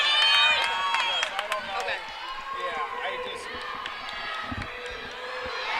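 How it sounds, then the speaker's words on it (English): Excited crowd at a college gymnastics tri-meet cheering as a Central Michigan gymnast starts her beam routine, a steady roar with shouts and claps under an announcer's commentary and the clatter of an arena. "Really hear that crowd getting excited here."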